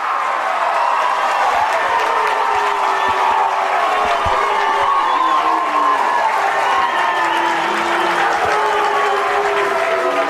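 Lehi fans at UCCU Ballpark during a high school baseball championship game cheer and chant "Nuke" in a dense, sustained roar, with rhythmic crowd voices rising and swelling throughout.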